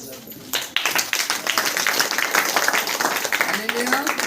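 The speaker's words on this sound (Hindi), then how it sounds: "ताली बजा कर" Congregation at a Saturday church prayer meeting clapping hands in steady rhythm, dense and sustained, with voices singing or speaking over it throughout.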